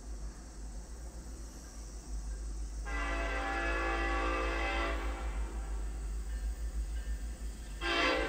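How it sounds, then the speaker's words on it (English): A Norfolk Southern freight train horn sounds at a distance over a steady low rumble: one long blast, then a shorter one after a gap, neither very loud. "This is the Norfolk horn here."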